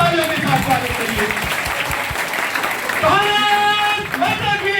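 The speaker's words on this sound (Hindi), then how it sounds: "इसके लिए जोरदार तालियों के साथ स्वागत करिए" A crowd at a public gathering in India breaks into loud applause to welcome someone, the clapping sustained throughout while voices and tonal sounds rise over it in the second half.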